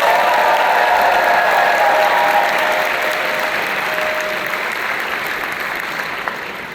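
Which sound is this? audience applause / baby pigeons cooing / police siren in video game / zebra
audience applause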